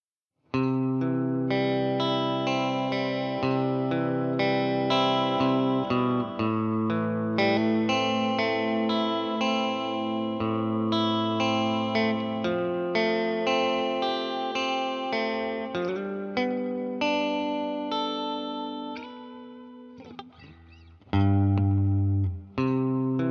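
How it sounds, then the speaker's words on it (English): Electric guitar played through a reverb pedal into a tweed tube amplifier, a run of picked notes and chords with a lush, washy tail that blurs each note into the next, loud and close, ending in a few scattered plucks. "And here's with the reverb pedal engaged."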